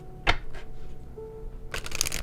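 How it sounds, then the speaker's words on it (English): Tarot cards riffle quickly in two short shuffling bursts separated by a quiet pause, close up. "I'm going to shuffle, pull 2 of these cards"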